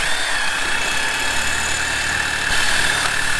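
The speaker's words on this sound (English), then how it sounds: "I just like to use a drill" A power drill runs continuously while opening up a puncture hole in a tire before a plug goes in. It gives a steady, loud whine with no pauses and no talk.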